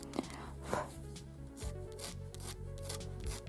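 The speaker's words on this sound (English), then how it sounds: "So I'm scratching in here the lines." A cutter scratches fine lines into a small pastel drawing, giving soft repeated rubbing and rasping strokes close up, with a faint low hum underneath.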